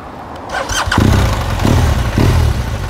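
A BMW R1200 motorcycle engine cranks and fires up, settling into a loud, close, lumpy idle with a few throttle blips, no talk over it.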